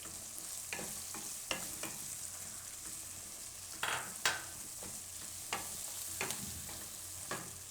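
Green peas stirred into frying mixed vegetable upma, a continuous sizzle broken by repeated scraping and clanking of a spoon against the pan at an uneven rhythm.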